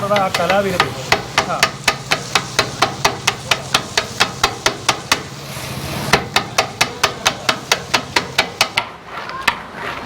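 Rapid, evenly spaced metallic clanks of a blade striking a griddle repeat steadily, chopping parotta into kothu parotta over a faint background sizzle.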